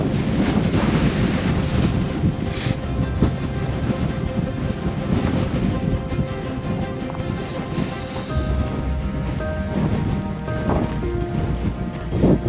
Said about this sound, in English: There's like a slight little break in the wind and it picks back up again